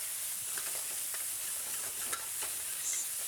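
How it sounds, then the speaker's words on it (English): Chicken stir-frying in a wok for four servings, a steady soft sizzle and hiss with light scraping stirs, quiet and even throughout with no talking. "Stir fry this."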